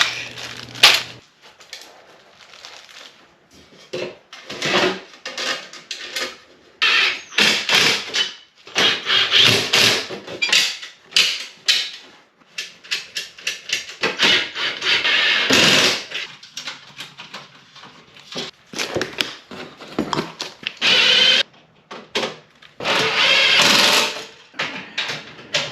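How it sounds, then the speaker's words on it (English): Screw gun driving screws into supports for an RV cargo basket, with repeated bursts of whirring and grinding interspersed with scraping and knocking, loud and close with no talk. "I guess we gotta get the screw gun"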